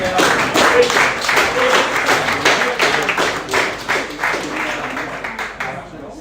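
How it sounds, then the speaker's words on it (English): A crowd clapping steadily throughout at a live property auction after a sale, dense applause that slowly fades toward the end, with a voice faintly mixed in. "So give them a round of applause."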